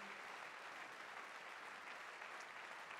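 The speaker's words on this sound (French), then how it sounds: "vous pouvez les applaudir aussi" An audience claps at a town New Year address by the mayor, a steady dense patter of applause heard faintly and at a distance for about three seconds.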